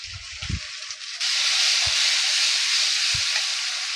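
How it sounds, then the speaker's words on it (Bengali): Spices with turmeric, tomato and salt fry in a pan, starting as a softer sizzle with a few low knocks and then swelling into a loud, steady hissing sizzle, with a couple of dull taps over it. "মশলাটা আমার ভাজা হয়ে গেছে"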